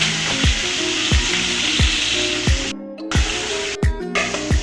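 Fish head frying in hot oil sizzles steadily and close up, with a string of sharp, regularly spaced knocks and scrapes from stirring in the pan and two brief dropouts.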